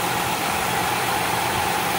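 A Ford Escape V6 engine running with a misfire, heard up close as a steady, even hum with a broad hiss on top, continuous and unbroken throughout.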